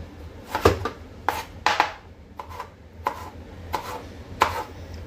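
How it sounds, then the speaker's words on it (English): Knife chopping vegetables finely on a board for Mumbai khada pav bhaji, seven or eight crisp, close taps spaced irregularly about half a second apart, with no talk. "So I'm going to cut this pretty fine."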